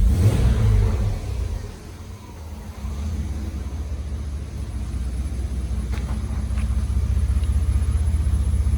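A Chevy S10 Blazer V6 with a muffler delete fires up warm: a loud burst at the start, then a steady, throaty idle rumble close by with no one speaking.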